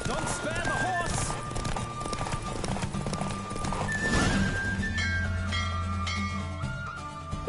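A horse in The Witcher 3 gallops through a race with fast, rhythmic hoofbeats and gives a whinny partway through, while a voice talks over the run.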